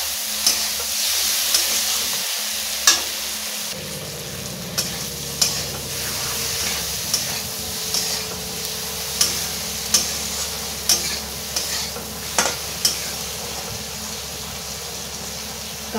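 Tomato with turmeric and chili powder sautéed for a katla fish curry, a continuous loud sizzle with regular tapping and scraping of a spatula against the pan every second or so, close by, no speech.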